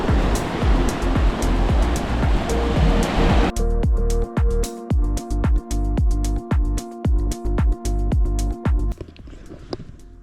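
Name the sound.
sea waves on the shore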